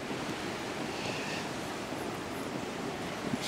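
Sea waves wash onto a European shoreline in a steady, fairly faint hiss of surf, with wind buffeting the microphone and no voices over it.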